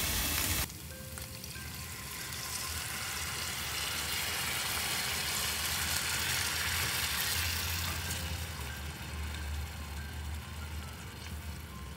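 Meat frying in a pot, then saffron and broth poured in: a soft start, then a sudden loud, steady sizzle and bubbling that continues evenly to the end.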